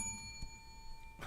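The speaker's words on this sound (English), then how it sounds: "double bell" A double bell sound effect chimes near the start, a bright ringing tone with steady sustained partials over faint low background, followed by a couple of soft knocks; short and moderately quiet, no talking.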